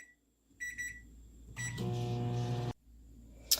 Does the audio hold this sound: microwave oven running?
yes